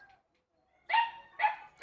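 Two loud, close dog barks in quick succession, about half a second apart, following a quiet stretch; no talking over them.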